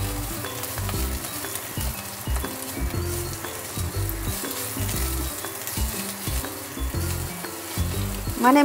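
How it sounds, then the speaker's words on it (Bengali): Ginger and garlic paste sizzles in hot oil as it is stirred around a pan, a close, continuous frying hiss broken by scraping stirs, with rhythmic music playing underneath throughout. "দিয়ে আদা আর রসুনের পেস্টটা এর মধ্যে দিয়ে নাড়িয়ে নিচ্ছি"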